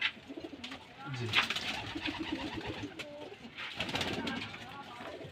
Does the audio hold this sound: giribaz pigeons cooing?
yes